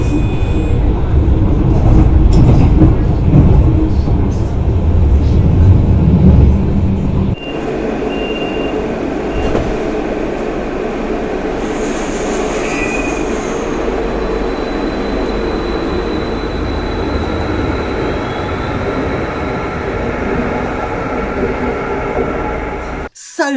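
Rhein-Ruhr Stadtbahn light rail train running, a loud, continuous rumble and rattle of wheels on track with a shift to quieter, steadier running partway through and brief whines above, heard from on board.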